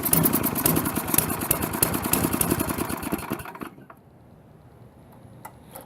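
A snowblower engine with a newly fitted carburetor, set low on idle and off full throttle, chugs with a rapid, steady beat for a few seconds, then cuts out to quiet with faint clicks.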